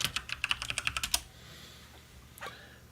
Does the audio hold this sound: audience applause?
no